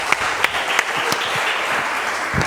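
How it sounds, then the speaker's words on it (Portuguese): A church congregation applauds during a Sunday worship service, with a continuous, fairly loud wash of clapping and a few sharper individual claps standing out near the start. "Você pode aplaudir ao Senhor por isso?"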